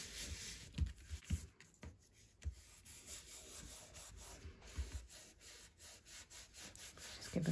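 Card is rubbed down firmly onto dense glitter paper, making soft, scratchy rubbing strokes at a quiet level, close up.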